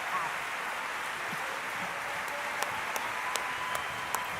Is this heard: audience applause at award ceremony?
yes